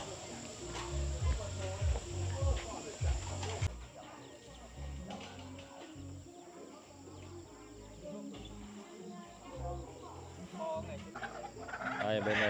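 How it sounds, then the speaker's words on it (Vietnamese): Chickens cluck and squawk close by while being slaughtered for a Muong ethnic wedding, busy irregular calls with handling noises and people talking in the background. "Đây anh em đang mổ gà các bạn nhé."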